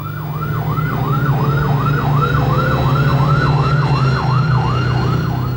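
An airport fire engine's siren wails in a fast, regular rising and falling cycle, loud and close, over the deep idling drone of the truck's engine.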